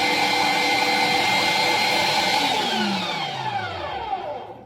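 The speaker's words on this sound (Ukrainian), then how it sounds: "На м'ясорубку і фарш готовий." An electric meat grinder minces pike fillet with a steady, loud whirring motor hum. Near the end the hum winds down in pitch as the machine slows and stops.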